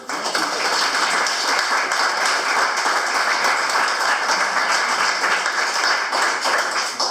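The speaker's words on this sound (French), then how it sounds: "applaudir nos adjoints" Members of the Guilers municipal council applaud their newly appointed deputy mayors at a May 2020 meeting, a dense, sustained round of clapping from many people in a meeting room lasting about seven seconds.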